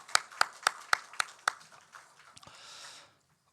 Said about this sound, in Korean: 다시 한번 축복의 박수 하십시다.